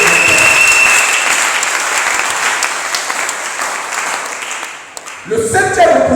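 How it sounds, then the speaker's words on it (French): A church congregation applauds through a Sunday service, a dense, steady wash of clapping that fades slightly, then picks up again near the end under a brief voice. "Est-ce qu'on peut acclamer le roi de Dieu?"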